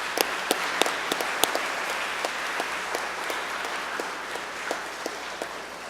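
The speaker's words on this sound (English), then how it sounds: "let's give the 8th grade and all those participated in the Veterans Day a big round of applause" A school crowd at a Veterans Day event applauds steadily for several seconds, dense clapping with a few sharper claps standing out near the front.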